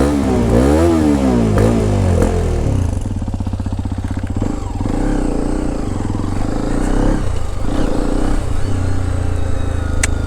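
A Hero Xpulse 210 motorcycle engine drones loudly while riding, rising and falling with throttle changes and rattly mechanical clatter, close and continuous with no talk.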